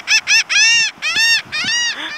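Seagulls gathered for feeding let out loud, close, harsh calls: a couple of short squawks, then several longer wailing cries overlapping one another, with no speech.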